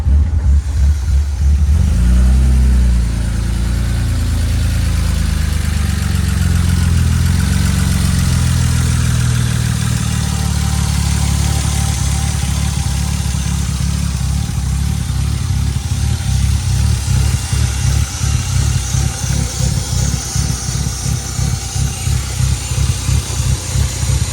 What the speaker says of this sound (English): I'm just gonna let it idle a little bit longer, see how it runs. It is kind of getting sputtery.